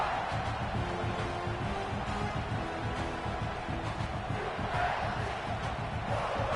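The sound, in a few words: stadium crowd noise in the video game College Football 26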